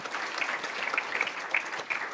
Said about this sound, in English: So everyone gives Miss Lennart and Cassidy a round of applause.